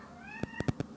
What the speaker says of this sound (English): Cat is playing in my trash.